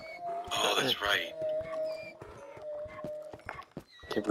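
Donkeys in the video game Minecraft braying and whinnying over hoof-like clops, several cries in a row, with players talking over them.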